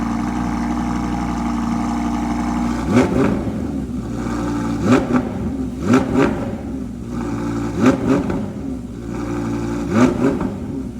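A rebuilt Audi R8 idles with a deep exhaust burble, then revs sharply five times in a steady rhythm, each blip rising and falling back.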